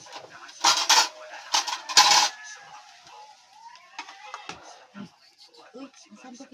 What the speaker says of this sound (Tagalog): Sandok tayo ng kanin.